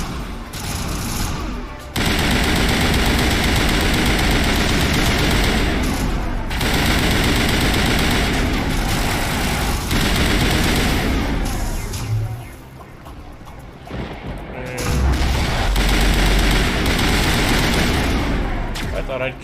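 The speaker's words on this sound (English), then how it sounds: "Something is ineffectively shooting." Loud, dense video game gunfire from an enemy rattles in long sustained bursts, broken by short pauses and a couple of low thuds, with a voice speaking now and then underneath.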